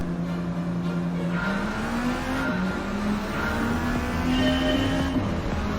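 A race car engine in Gran Turismo 7 drones loud and close during an endurance race at Kyoto Driving Park, its pitch stepping up through gear changes as it accelerates steadily.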